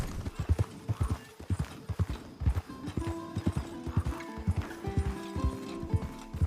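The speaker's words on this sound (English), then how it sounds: "the meditative act of slowly riding your horse through the landscape" A horse in Red Dead Redemption 2 is ridden slowly across open landscape, its hooves clip-clopping in a steady rhythmic gait, close and distinct, over soft tonal music with no speech.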